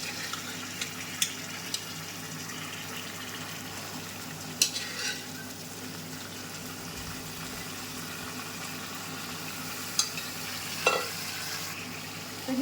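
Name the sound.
chicken sukka being mixed in pan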